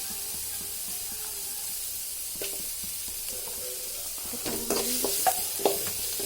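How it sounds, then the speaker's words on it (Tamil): Mint leaves sautéed in a pan for a home-cooked dish give a steady low sizzle, with scattered stirring scrapes and clatters growing busier toward the end, close and without talking. "நல்லா வதக்கணும்."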